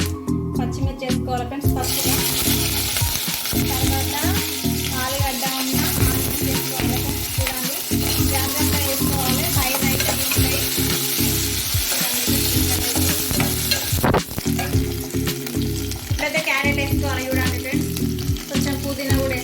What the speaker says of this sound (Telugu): మంచిగా ఫ్రై అవ్వాలి ఆయిల్లో పచ్చివాసన పోయేంతసేపు వేయించాలి